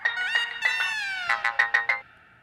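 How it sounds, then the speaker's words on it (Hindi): Phone ringtone playing a bright repeating electronic melody, loud and close, a run of quick notes lasting about two seconds before fading, in a Hindi comedy show. "अग्रवाल जी का फोन थोड़ी देर में आने वाला है"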